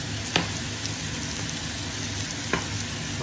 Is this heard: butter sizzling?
yes